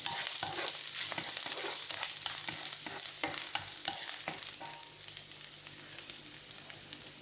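Garlic sizzles in hot oil in a pan as a base for spicy pork ribs, a steady close frying hiss broken by a spatula stirring and scraping, with no voices.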